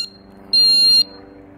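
A bicycle alarm gives off a single steady, shrill electronic warning tone, a loud continuous beep lasting about half a second that starts and stops abruptly over a faint background hum.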